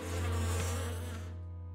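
Bees from a cartoon hive give a brief, steady, loud droning buzz that tails off slightly at the end.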